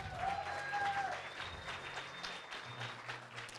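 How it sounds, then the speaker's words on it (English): Applause from the audience at a powerlifting bench press championship ceremony, a soft, distant wash of clapping under faint tones and background hum. "Big round of applause for Mr."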